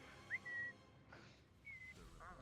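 Whistling by people in VRChat: a short rising whistle followed by a longer steady tone, then after a pause another level whistled note, fairly soft against a quiet background with some breathy noise.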